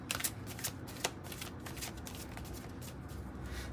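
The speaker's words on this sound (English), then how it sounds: "Let's get maybe a couple more cards out here." Tarot cards being shuffled and drawn by hand, a close, quiet run of quick riffling flicks and soft slaps over a few seconds, with no voice.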